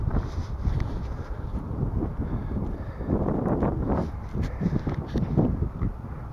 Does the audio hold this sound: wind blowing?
yes